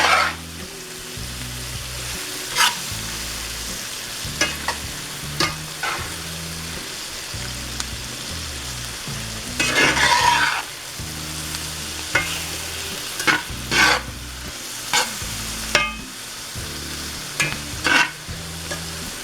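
Squash and peppers are stirred in a frying pan over a low sizzle, with repeated scraping and clattering strokes of the utensil every second or two, close by and with no talking.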